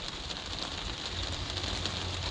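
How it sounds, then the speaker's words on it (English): Heavy rain falls outside a greenhouse, making a constant, dense hiss of drops drumming on the roof and surroundings, steady throughout with no speech. "Hear that rain out there? It's absolutely horrible."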